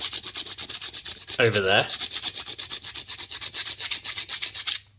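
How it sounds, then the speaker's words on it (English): A hand file rubs back and forth over primer on a Kawasaki GPZ900R fuel filler cap, giving close, steady rasping strokes with a brief voiced comment partway through. "If I run the file, choose a smaller one, there you go."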